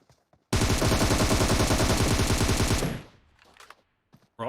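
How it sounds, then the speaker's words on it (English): Automatic gunfire in PUBG on the Miramar desert map, a loud, rapid, close burst of shots lasting over two seconds before cutting off, with faint scattered sounds around it. "Shots coming down from the team member. Also shots from a third party."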